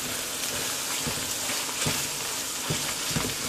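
Ground pork and basil stir fry sizzles steadily in a pan, a dense continuous crackle and hiss with occasional louder pops and scraping stir strokes, close and loud with no voices.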